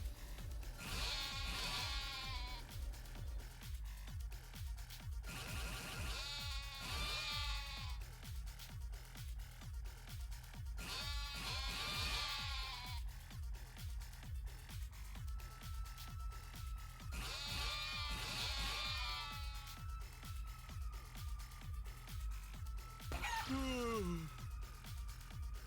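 Sheep in the video game Yakuza: Like a Dragon bleat over and over in a steady rhythm, about every five seconds, layered over continuous background game music.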